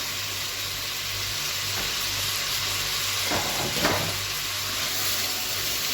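Trimmed green okra being added and stirred into onions frying golden in a pan, a steady close sizzle with a couple of brief scraping stirs partway through and no talking.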